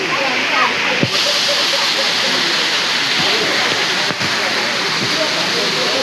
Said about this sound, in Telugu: ఇదే అనమాట వాటర్ ఫాల్స్